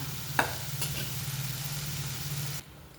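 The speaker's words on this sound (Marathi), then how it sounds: "हा तांदूळ आपण छान या मसाल्यामध्ये पावट्यामध्ये परतून घेतला आहे" Rice stirred and sautéed in masala with pavta beans, a brief spoon knock against the pan over a low steady hum and soft sizzle that cuts off near the end.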